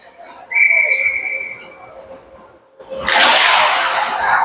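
A referee's whistle at a bantam A ice hockey game sounds as one sustained shrill blast, followed by a broad burst of rink noise and crowd.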